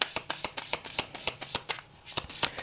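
Oracle cards being shuffled and handled while one card is drawn from the deck, a close, rapid series of crisp flicks and riffles in a steady, slightly uneven rhythm with no talking.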